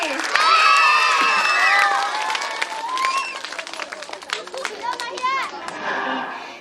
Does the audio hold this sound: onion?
no